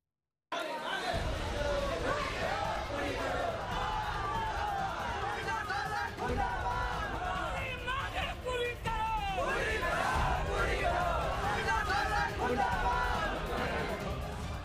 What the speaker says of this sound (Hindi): इससे नाराज स्थानीय लोग रविवार को बिजली विभाग के खिलाफ प्रदर्शन कर रहे थे